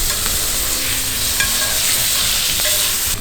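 Bacon sizzles steadily in a pan over medium heat, a loud, dense, continuous hiss and crackle with occasional louder pops.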